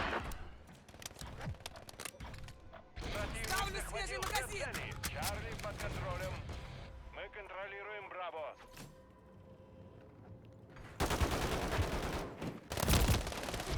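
Rapid bursts of gunfire in Call of Duty: Modern Warfare 3 on the snowy map Incline crackle repeatedly, with heavier volleys near the end, while someone talks over the shooting.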